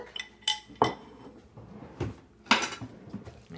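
Salad tossed in a bowl with utensils after salt, parsley and garlic go in: a few sharp clinks and scrapes of utensils against the bowl, close and distinct, separated by short quiet gaps.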